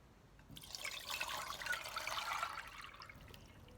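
A brief wash of water sloshing and splashing in a pan, rising quickly, churning for a couple of seconds, then settling back to quiet.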